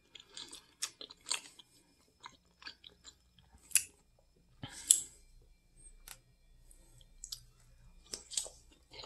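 Close, crisp chewing of crusted tapioca fish at a dinner table, irregular crunchy bites and soft mouth sounds with short quiet gaps between them, no talking.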